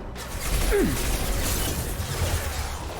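A shutter mechanism grinds shut in Mass Effect 2, a loud mechanical clank and ratcheting rumble with a brief metallic screech, followed by a sustained whirring drone.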